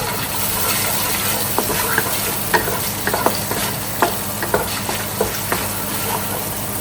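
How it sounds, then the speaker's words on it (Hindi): Chicken browns in a tablespoon of oil, sizzling steadily while a utensil scrapes and stirs through it in regular clicks, close and fairly loud. "1 टेबलस्पून ऑयल ऐड किया है। अब इसे ब्राउन करेंगे थोड़ा सा।"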